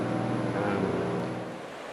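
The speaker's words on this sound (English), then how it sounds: "That's a pretty good example of a fast running tide." Fast-running tidal water swirling in whirlpools along the Shimanami Kaido in Japan, a dense, steady rushing roar close by, with a low churning undertone and a faint high whine that eases slightly toward the end.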